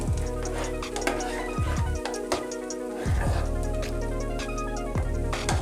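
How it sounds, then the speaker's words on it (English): Tomato soup with dry Italian herbs is stirred in a pot over the heat, giving a continuous sizzle with a regular clacking of the spoon against the pot, loud and close. "The dry Italian herbs. And just give that another stir."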